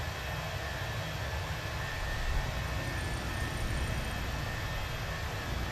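Steady, roaring jet engine noise from an airliner taking off and climbing in a flight simulator, a constant broadband rush that swells slightly midway and carries on without a break.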